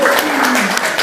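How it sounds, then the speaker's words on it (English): Audience applause in a performance setting, a dense burst of clapping heard close, with voices overlapping it. "Give applause, please."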